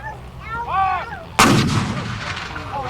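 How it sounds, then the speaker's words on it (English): A Civil War cannon fires a single round at a Gettysburg battle reenactment, one loud booming blast with a rolling tail, preceded by a shout from the crew. "Okay, we'll fire another round, go through the process."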